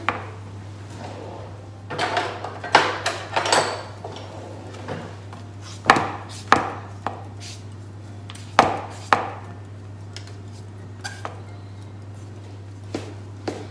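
Flat knife working scone dough with raisins in a bowl, giving irregular close knocks and scrapes against the bowl under a steady low hum, with no talking.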